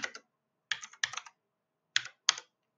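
Code typed on a computer keyboard in short clustered bursts of crisp clicks with brief silent gaps, close and clear with nothing else heard.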